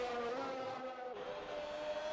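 An Aston Martin race car in a Hungarian GP racing video game rounds a corner on medium tyres, its engine holding a steady, faint whine that dips briefly and then climbs again.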